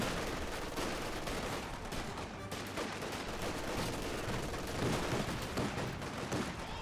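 Rocket squad gunfire in the video game Company of Heroes 2, dense rapid rattling bursts of fire blending into continuous battle noise, no talking.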